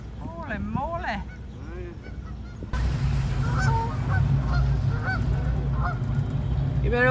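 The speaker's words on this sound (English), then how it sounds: "Oh, look at the geese." Geese honking near a boat on Lake Michigan, several loud nasal honks close by at first, then continuing fainter over a sudden heavy engine rumble and wind.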